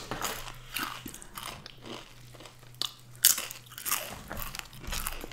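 Pizza eaten together with crunchy chips, close to the microphone, with repeated crisp bites and crunchy chewing in uneven bursts and one sharp crackling crunch partway through.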